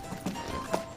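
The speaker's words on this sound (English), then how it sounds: "But they definitely have like a clip-clop sound of hooves" Hooves of horse-like creatures clip-clop in the King's Quest video game, a few soft, evenly spaced hoofbeats over a steady background hum in one brief stretch.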